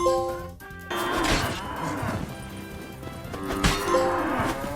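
Cows moo in The Witcher 3, with a few long, drawn-out lowing calls close by, broken by a sharp crash and whacking hits.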